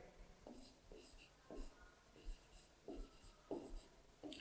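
Pen or pencil writing numbers by hand on paper during a Class 4 maths lesson, a series of short scratchy strokes in bursts, close and fairly quiet, with faint breathy voice in the background.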